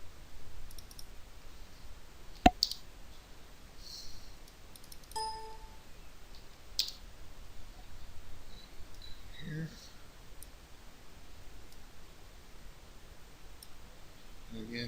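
Mouse clicks while editing audio, one sharp close click and a few fainter scattered clicks and small chimes, over a soft room hiss.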